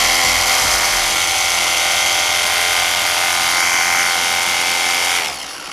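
A RUPES Bigfoot HLR 75 polisher from Italy runs at a steady loud whine with a rich buzzing drone, held evenly for several seconds before cutting off abruptly at the end.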